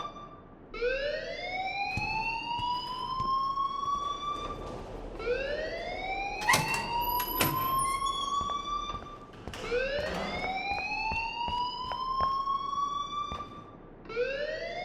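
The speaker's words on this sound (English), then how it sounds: "please turn off that alarm since that's your job" A school fire alarm from the video game Life Is Strange whoops in repeated rising siren sweeps, each about four seconds long, loud and continuous, with no talking over it.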